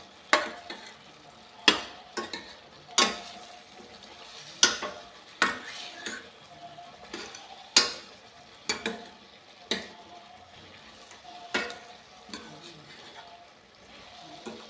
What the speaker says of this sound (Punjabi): ਸਾਰੇ ਮਸਾਲੇ ਦੇ ਵਿੱਚ ਚੰਗੀ ਤਰ੍ਹਾਂ ਕਰ ਲਈ ਮਿਕਸ